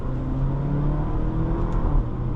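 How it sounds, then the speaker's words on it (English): Porsche Macan with PDK transmission pulling away in first gear, a steady close engine hum climbing slightly in pitch with faint road noise and no speech. "when you drop to first gear and accelerate, the transmission responds very quickly"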